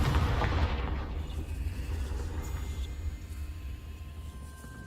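A Confringo fire spell explodes in the video game Hogwarts Legacy, opening with a loud, deep boom that rolls off into a long, fading rumble and crackle.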